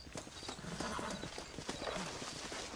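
Horse hooves clip-clopping in the video game Red Dead Redemption, a quick, even trotting rhythm of soft thuds at moderate distance, fairly faint against a background hiss.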